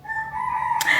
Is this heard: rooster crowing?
yes